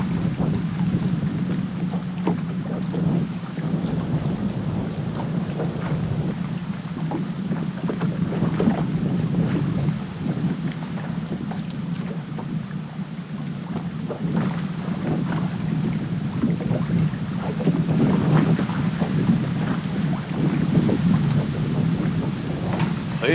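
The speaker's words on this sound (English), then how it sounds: "we got the wind blowing so hard it's moving that rod tip around" Strong wind gusts hard and steadily while channel catfish fishing outdoors, roaring and buffeting the microphone loudly for the whole stretch with no voices.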